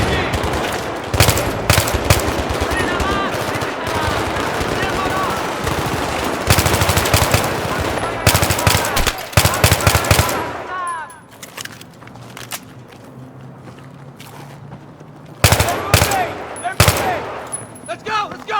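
Sustained machine-gun fire in the military shooter Battlefield 3, loud rapid bursts and fusillades close by, pausing briefly before erupting again, with shouted voices mixed in.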